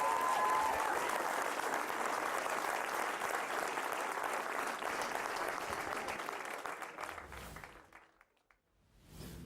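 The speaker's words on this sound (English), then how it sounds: "can we have a big massive round of applause, please, for Laura" Sustained audience applause at an international open black belt kickboxing championship, a dense crowd clapping loudly and steadily before thinning out and fading near the end.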